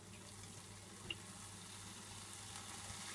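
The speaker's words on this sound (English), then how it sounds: "just going to add some water now." Water is poured into a pan of chicken curry, producing a steady, quiet stream and gentle sizzle close by, with one small clink partway through and no talking.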